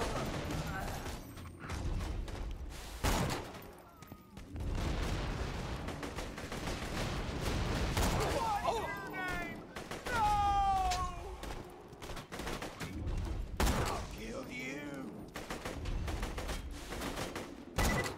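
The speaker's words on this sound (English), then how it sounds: "That's a shotgun." Shotgun blasts in Borderlands 2 go off amid the chaos of a gunfight, sharp booms mixed with other gunfire and game effects. A voice speaks over the action.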